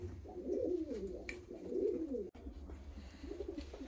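Fancy show pigeons of Balon, Buhara and Balina breeds coo in repeated rolling low calls, close and steady, with a soft background hum and no talk.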